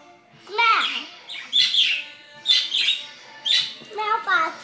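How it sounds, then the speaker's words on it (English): A pet bird chirps and tweets in clear, repeated bursts close to the mic, with short pauses between calls in an otherwise quiet room. "Look at the bird there."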